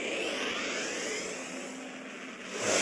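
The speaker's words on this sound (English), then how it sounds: "Auto combat starting warp engine." A spaceship's warp engine spins up in the space game Second Galaxy. It makes a steady, jet-like roaring whoosh that swells louder at the end, with no talk over it.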